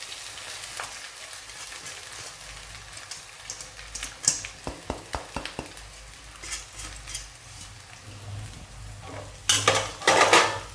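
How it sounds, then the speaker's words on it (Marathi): Poha is stirred into fried onion in a pan for kande pohe, with rhythmic scraping and clinking of a spoon against the metal over a low sizzle, then a louder burst of scraping at the end. "आता आपण हलवून घेऊया"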